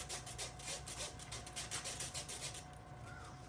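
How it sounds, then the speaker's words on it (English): Flour whisked through a wire strainer into onion soup: rapid rhythmic scratchy rubbing strokes, close but quiet, with no talk, fading out near the end. "Whisk in your flour right in the strainer."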